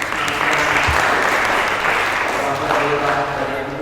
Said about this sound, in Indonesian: Kita perlu tepuk tangan